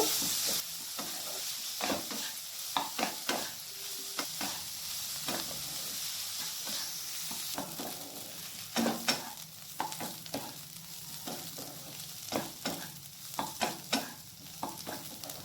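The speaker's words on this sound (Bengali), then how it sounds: "পেঁয়াজটাকে আমি এখানে ভেজে নেব" Chopped onion frying in butter in a pan makes a soft, continuous sizzle, broken by repeated scrapes and clinks of a spatula stirring at close range.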